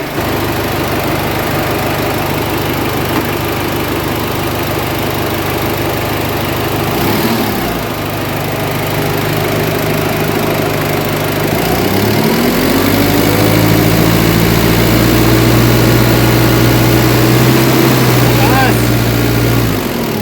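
A car with a dual air-conditioning system runs at a steady, loud idle, then its engine swells into a couple of revs before settling back to idle. Someone talks over it throughout.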